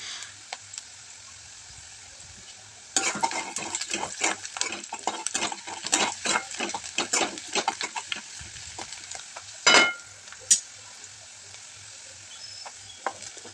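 Onion frying in oil and ghee for upma crackles and spits in a dense burst of sizzling with stirring taps and scrapes, then settles to a quieter hiss with a couple of sharp clinks.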